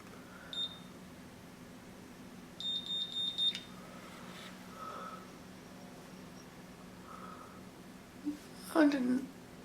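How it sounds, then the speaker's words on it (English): A BelissPro Curl Genius automatic hair curler sounds short electronic warning beeps, a single beep followed by a rapid cluster, close and fairly faint, with a person talking nearby. "I like how it gives you warning beeps, but it's not in there correctly,"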